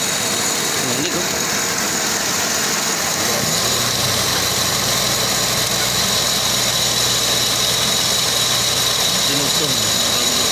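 A Toyota Vios idles roughly, misfiring and struggling to run, with a loud, steady engine drone and vibration filling the whole clip while people talk nearby.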